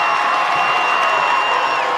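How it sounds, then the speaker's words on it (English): Crowd at a high school football game between Logan and Mountain Crest makes a steady, loud roar of cheering that fills the whole stretch without a break. "And now the crowd starts making some noise."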